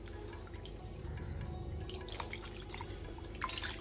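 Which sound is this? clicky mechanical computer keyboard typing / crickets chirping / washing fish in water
washing fish in water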